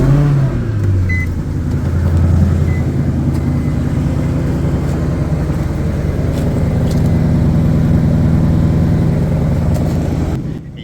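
A 4.5 litre V8 car engine starts and settles into a steady, loud idle that rumbles on for several seconds before cutting off abruptly.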